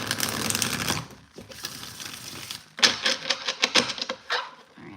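A deck of playing cards being shuffled by hand in a quiet room, heard as a rough riffling burst followed by a run of quick, crisp flicks and snaps up close.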